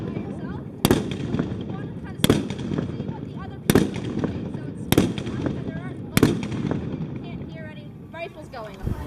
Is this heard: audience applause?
no